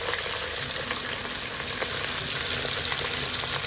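Cooked mutton head meat frying in a little oil, a dense, steady close sizzle with faint crackles and light stirring, with no talking.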